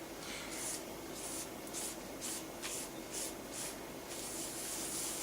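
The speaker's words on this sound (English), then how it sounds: "So what I'm doing is I'm just rubbing my finger" A fingertip rubs loose glitter into a craft surface to polish it in, making soft, quiet rhythmic swishing strokes, about nine in a row, with no talk.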